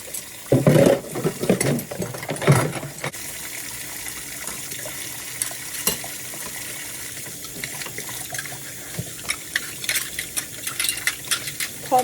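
Dishes are washed by hand in a home kitchen sink under running water, with scattered clinks and clatters of crockery over a steady tap hiss, fairly close and moderately loud.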